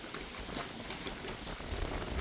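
Rain falls steadily in Phuket, Thailand, a dense, even hiss of drops that swells slightly toward the end, with no talk over it.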